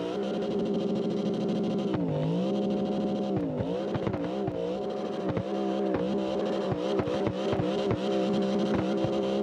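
At a Slidestyle drift open practice, cars spin through burnouts, their engines holding a loud sustained roar that rises and dips in pitch, with brief tire chirps scattered through.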